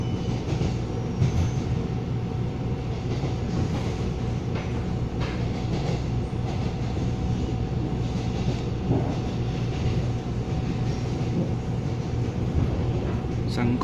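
EMU500 electric multiple unit commuter train on the Pingtung line between Xinzuoying and Kaohsiung, heard from on board as a steady rumble with faint rail clicks and squeals throughout.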